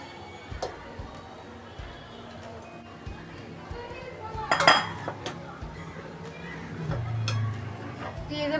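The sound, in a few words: adding rice and prawns to biryani pot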